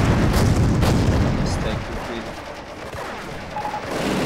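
Gunfire and heavy impacts as a mortar half-track is attacked in a real-time strategy battle, loud thumping bursts early that fade into scattered, distant shots and rumble.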